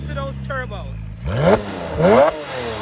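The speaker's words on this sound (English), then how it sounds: "Oh my God, listen to those turbos." A Porsche 997 Turbo tuned past 1000 horsepower revs hard, with two sharp rising engine surges and turbo whine following an idling start, loud and close.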